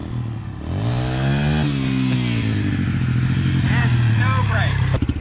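A Yamaha TT-R125 dirt bike engine runs close by after being revived, rising from idle into a revving climb, then settling into a steady buzzing putter with clattery mechanical texture; voices talk briefly over it.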